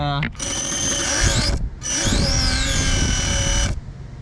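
A damaged electric motor on an RC jet dragster runs poorly in two whining bursts of about a second and two seconds, with a harmonic tone that wavers and sweeps and a rough, ratcheting, gear-like rattle underneath, loud and close.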